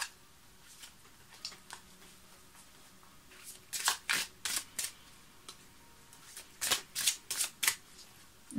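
Tarot and oracle cards are shuffled and drawn by hand, with soft papery riffles and flicks clustering in two quick bursts amid quiet background.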